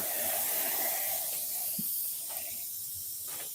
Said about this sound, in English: I'll do one more little spritz on there